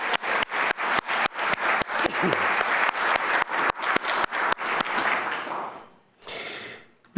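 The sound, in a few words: audience applause for volunteers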